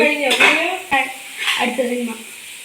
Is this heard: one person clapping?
no